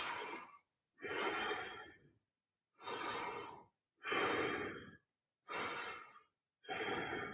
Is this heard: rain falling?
no